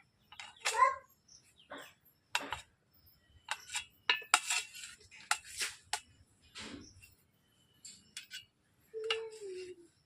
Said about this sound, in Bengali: এইভাবে আমি পনিরগুলোকে কেটে নিচ্ছি।